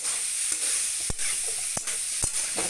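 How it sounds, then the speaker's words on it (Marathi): A pan of food sautés in oil with salt and turmeric, three or four sharp spoon knocks against the pan over a steady bright sizzle. "हळदचं टाकलेले आहे आपल्याला थोडंसं परतून घ्यायचं तेलावर"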